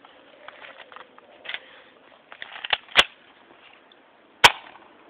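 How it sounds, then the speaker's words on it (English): A BB gun fires through a fence outdoors, with two sharp cracks a second or so apart standing out over faint rustling and light background patter, with no talk. "I'm gonna try and shoot this one through the fence."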